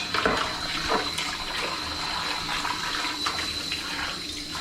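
Tap water runs steadily into a kitchen sink while dishes are rinsed after cooking eggs, a continuous close splashing rush with small clatters and shifts in flow, no talking.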